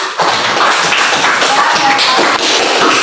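Classroom of students applauding after a lesson, a dense, continuous burst of loud close clapping lasting a few seconds, with a faint voice mixed in.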